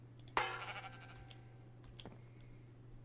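A single sheep bleats once in the Minecraft modpack Agrarian Skies, a short nasal call over a steady low hum, followed by faint clicks of keyboard and mouse.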